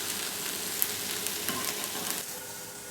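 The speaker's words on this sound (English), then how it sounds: "I'm going to start adding the sausage to the gumbo." Sausage sizzles steadily in a pot of chicken gumbo, a continuous crackling fry with light stirring scrapes and no talk.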